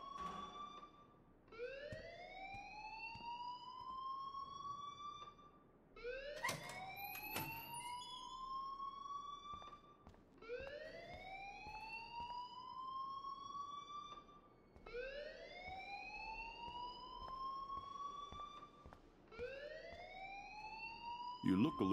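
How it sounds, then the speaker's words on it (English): Alarm in the video game Life is Strange, rising electronic siren-like wails repeating about every four seconds, fairly loud and steady, with faint background noise between the sweeps. "please turn off that alarm since that's your job"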